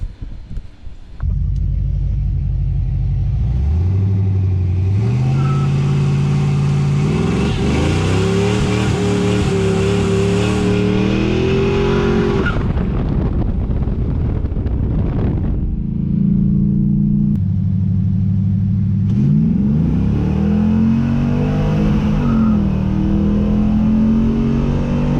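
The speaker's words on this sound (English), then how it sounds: "It's time to see if we can tear 2 tires off instead of 1." A Chevelle A-body muscle car fitted with CPP upper and lower control arms and QA1 coilovers does a burnout, its engine roaring loud and close in long sustained revs that climb and hold, dip briefly midway, then rise again, with no talking.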